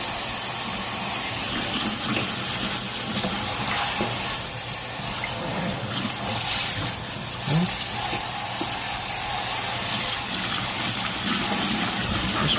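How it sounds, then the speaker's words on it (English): Water sprays from a sink sprayer onto the parts of a Butterball XL turkey fryer, a continuous hissing gush that splashes steadily with no voices over it. "I don't like that water splashing like that."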